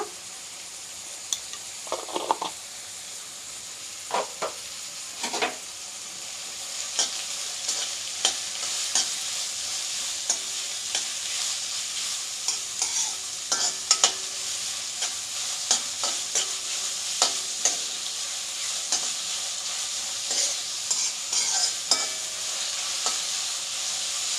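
Chopped onions sauté with salt in a hot pan, a soft steady sizzle broken by repeated sharp scraping and clacking strokes of a stirring spoon, close and without talk.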